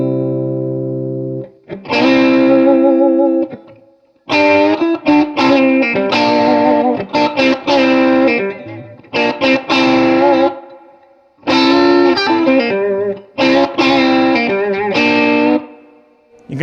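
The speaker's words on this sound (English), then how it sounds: "You can grab multiple strings as you're bending it, right? Give it more of a raunchy, chordy type of sound going on." Heavily distorted electric guitar plays bent chords across several strings in repeated phrases with short pauses between them, loud and up front.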